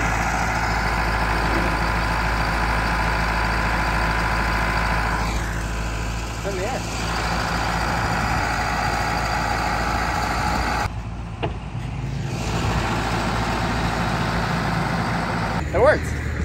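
A fifth-generation Mega Cab pickup with a Cummins diesel engine idling nearby, a steady low rumble throughout with brief quieter gaps.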